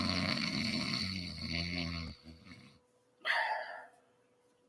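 A person imitates snoring in loud, rasping, voiced bursts, then pauses and adds a shorter snort-like imitation.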